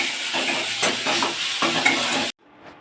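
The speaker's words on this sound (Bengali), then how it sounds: "এরপর কড়াইতে আমি আদা, রসুন, পেঁয়াজ দিয়ে মশলাটা করছি" Ginger, garlic and onion masala frying in a wok, a steady loud sizzle with scraping stirring strokes throughout, cutting off abruptly near the end to a faint quiet tail.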